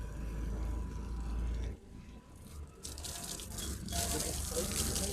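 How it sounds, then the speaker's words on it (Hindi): Water is poured over a marble slab, a steady splashing wash that runs loud and continuous, dips briefly partway through, then surges back stronger to the end. "जी इस पे पानी लगा दें।"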